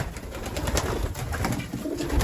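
Young racing pigeons coo in a loft, soft, throaty calls overlapping close by over a rustling background, with no voices.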